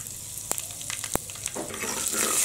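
Mustard seeds tempering in hot oil give a couple of sharp pops, then a rising, continuous sizzle and crackle that grows louder toward the end.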